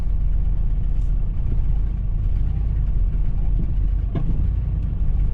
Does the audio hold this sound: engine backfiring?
yes